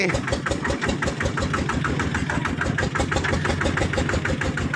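A tractor engine idles close by, a steady rumbling with its low chugging pulse running evenly throughout and no voices.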